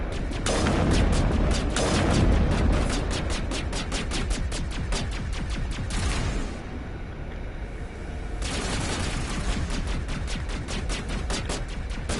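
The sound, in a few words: gunfire in the video game Mass Effect Legendary Edition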